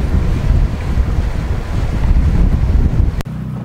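Sailboat under way with steady broadband wind rush and wave wash buffeting close to the microphone, continuous and loud, cutting out abruptly near the end to a quieter low hum.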